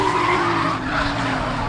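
Tires squealing hard on a drift car during a drift battle at a competition track, the handbrake stretching the slide: a continuous loud skid with a steady tonal screech and engine under it, briefly easing midway.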